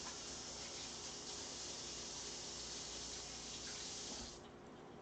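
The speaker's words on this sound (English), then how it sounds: "I tend to wash my hands a lot when I cook" Water streams steadily from a kitchen tap during handwashing while cooking, a continuous close hiss that cuts off and softens near the end.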